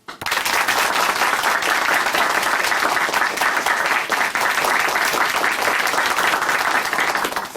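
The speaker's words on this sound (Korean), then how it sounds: "다시 한번 이종구 형제님께 박수 부탁드립니다" A studio audience at a Christian television talk show claps for a guest, loud sustained applause starting abruptly and holding steady for several seconds.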